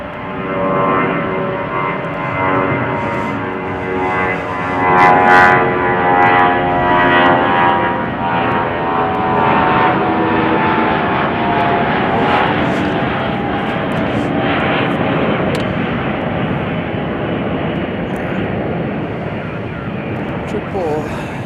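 Airliner taxiing past at Chicago O'Hare airport, a steady, loud engine roar with a broad rumble and a faint shifting whine that holds throughout, swelling slightly midway.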